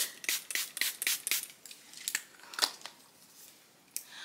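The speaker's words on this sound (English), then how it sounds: "set that with a little bit more of a wet setting spray" Milani Make It Last setting spray hisses from a pump bottle in a rapid series of short, crisp bursts close by, then a few sparse spritzes, alone.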